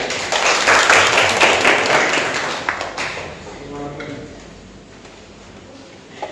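A classroom of students claps hands for about three seconds, a dense burst of many palms that stops abruptly, followed by a teacher talking alone.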